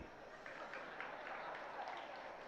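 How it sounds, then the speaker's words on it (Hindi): Audience applause during a Hindi sermon, a steady wash of clapping from a crowd that holds evenly throughout the short stretch. "आपने हर बात पर ताली बजाना ही प्रारंभ कर दिया"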